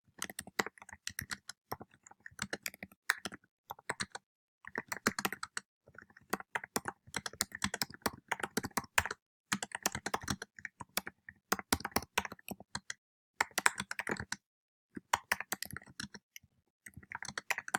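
Steady typing on a computer keyboard, bursts of quick key clicks separated by short pauses, close and fairly quiet with no talk.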